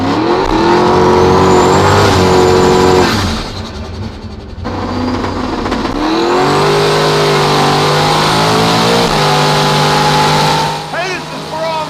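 A Mustang makes a drag race pass, its engine revving hard and loud, dropping off briefly for a shift before pulling again and fading near the end. Voices are heard over it.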